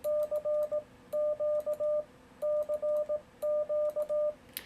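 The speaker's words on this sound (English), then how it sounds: "I can practice my CW sending, but I'm not transmitting." Morse code sidetone from a Yaesu FTdx10 with an iambic paddle keyer in practice mode, crisp groups of dits and dahs in a steady tone, sent in four bursts separated by short pauses.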